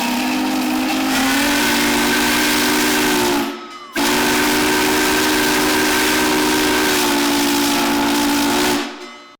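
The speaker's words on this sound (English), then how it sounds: "I was able to get the engine to blow its whistle at the stroke of noon." A loud steam locomotive whistle blows two long sustained blasts at noon to open a public event, the first cut off briefly before the second, with hissing steam throughout.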